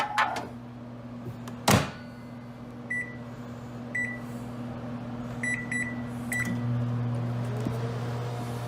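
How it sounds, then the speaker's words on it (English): A microwave oven hums steadily through a nuke-station cooking run for melted cheese, a loud constant drone with a door clunk early on and several short electronic beeps from the keypad, no voices. "All it does is use the microwave."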